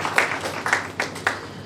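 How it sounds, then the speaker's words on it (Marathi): Scattered audience clapping at a 75th birthday celebration, a few sharp claps spaced unevenly over a soft room murmur. "आपण टाळ्या वाजवूयात."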